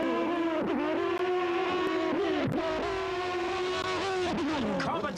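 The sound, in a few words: drag racing motorcycles on the track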